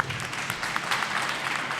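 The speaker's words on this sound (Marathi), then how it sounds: "एकदा जोरदारपणे एकदा टाळ्या वाजूया." Audience applause at a Marathi youth drama and dance event, a steady broadband patter of many hands clapping without pause for a couple of seconds.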